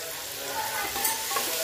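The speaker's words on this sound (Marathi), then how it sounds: "थोडं मटर भाजून घेऊया" Fresh green peas roast in a hot pan for khichdi, giving a steady close sizzle with faint stirring scrapes and no talk.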